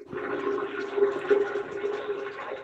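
A toilet flushes nearby, a steady rushing and gurgling of water that swells and churns for a few seconds, fairly quiet with no talk over it.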